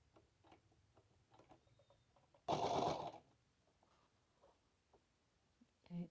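A sewing machine stitching a hat runs in one short loud burst of about half a second, close to the microphone, among faint ticks and light handling sounds.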